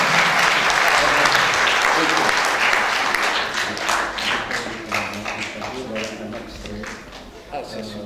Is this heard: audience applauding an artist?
yes